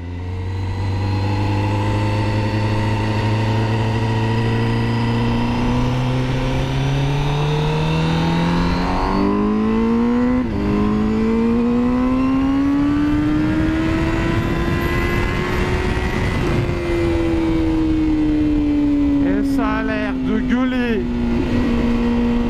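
A 2020 Honda CBR1000RR-R SP motorcycle roars loudly as it accelerates through the gears, engine pitch climbing steadily, dropping at each shift, then rising again, with steady wind rush and a voice talking underneath.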